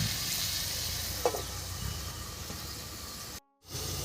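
Onion and tomato with turmeric cook under a lid in a pan for an egg curry, a steady muffled sizzle with a soft clink, cutting out abruptly near the end before resuming.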